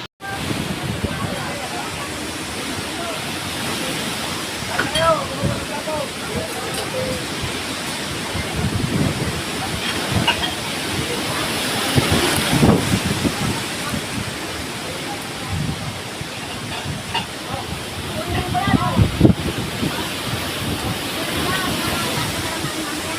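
Typhoon Opong's strong wind and crashing waves in Oriental Mindoro, a continuous loud roar with gusty surges and some splashing bursts, steady throughout with no clear talk.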